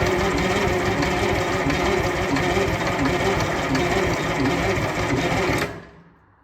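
A Detroit two-stroke V8 diesel in a 1969 Kenworth cabover being turned over by the starter, a loud continuous rapid mechanical churning that runs for several seconds and then abruptly stops.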